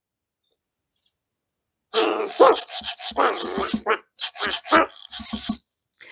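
An EMO desktop robot imitates a dog with a run of short, loud, electronic bark-like yips in quick bursts over about four seconds, after a couple of faint clicks.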